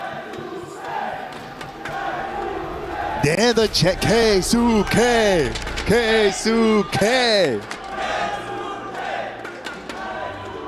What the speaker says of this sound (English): you hear the crowd for Keisuke on the other side